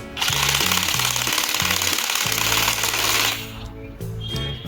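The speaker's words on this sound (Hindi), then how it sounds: "आप नीचे करेंगे तो अब ये बोल्ट टाइट होने वाला है।" A homemade cordless screwdriver, converted from an old wired one to battery power, tightens a bolt with a loud, steady motor whine and rattling, pulsing drive that eases and shifts near the end as the bolt seats.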